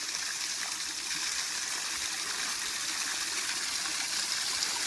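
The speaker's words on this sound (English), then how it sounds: "Bobby's going to try some water straight from the source of the spring" Water flows steadily from a spring source in rural central Portugal, a continuous close rushing trickle with even loudness throughout and no voices.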